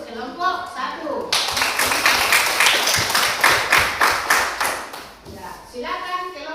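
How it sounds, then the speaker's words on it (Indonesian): A classroom group gives a few seconds of loud, steady hand clapping for group 1. A voice speaks briefly before it starts, and talking resumes as it fades. "Bagus, kita beri aplaus untuk kelompok 1."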